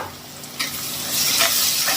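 Onion frying in a kadai, a steady close sizzle with bursts of stirring that grow louder and brighter after the first second, no voices.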